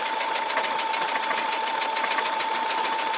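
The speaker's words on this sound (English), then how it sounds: "look how straight it's stitching" A Brother SE630 sewing/embroidery machine stitches fabric in a fast, even mechanical whir with a rapid needle rhythm, close and steady throughout with no talk.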